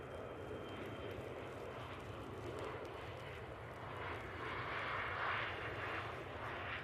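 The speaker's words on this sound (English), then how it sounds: "Lovely Logan Air departure" A Loganair aircraft departing Manchester Airport, the engine drone faint and distant at first, then building into a louder, steady roar with a rising whine near the end, with no voices over it.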